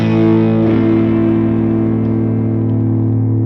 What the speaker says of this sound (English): It can get very raucous if you have two series humbuckers in series.